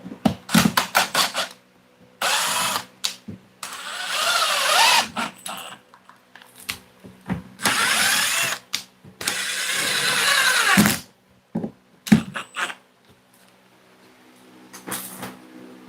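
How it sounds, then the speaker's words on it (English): Loud power tools working on a wall, bursts of drilling and driving screws in uneven stretches with short pauses, close and harsh, with no talking. "super loud power tools."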